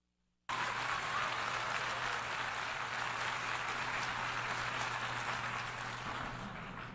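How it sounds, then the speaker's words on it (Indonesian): An audience bursts into sustained applause after a short silence at the close of a world indigenous council forum meeting, a steady, even roar of clapping throughout. "Saya pikir semua dari Anda pantas mendapat tepuk tangan meriah."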